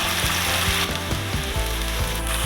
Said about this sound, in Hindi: दो चम्मच लहसुन अदरक का पेस्ट है, इसे डाल के 1 मिनट तक भूनेंगे।